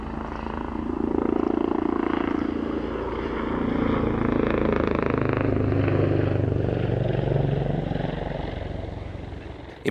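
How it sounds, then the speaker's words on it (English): A Swedish Air Force TP-84 Hercules from F7 wing at Såtenäs makes a low-level flypast at an airshow, its turboprop drone swelling and throbbing loudly as it passes overhead, with no talk over it. "here's a TP-84 Hercules from F7 wing of the Swedish Air Force at Såtenäs"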